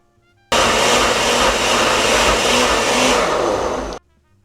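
Blender grinding soaked chiles with their soaking broth for mole, a loud, close, steady whirring roar that starts abruptly, runs for several seconds and cuts off sharply.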